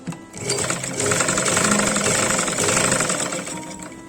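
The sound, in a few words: sewing machine stitching folded fabric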